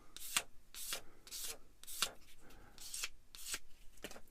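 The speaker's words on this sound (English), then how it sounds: "let the sander" Hand sanding of a plastic part from an eModels Cat-Cat model kit, a series of about eight short, evenly spaced rasping strokes, close and fairly quiet, with no voice.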